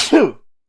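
A single short sneeze close to the microphone in a podcast studio, a sharp burst that trails off quickly into silence.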